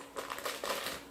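Plastic packaging of a seasoned ground beef chorizo sausage being cut open, a faint, close crinkling and slicing rustle lasting about a second.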